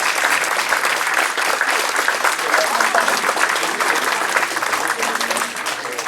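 Sustained, dense applause from a large crowd at a political speech, steady and loud from start to finish.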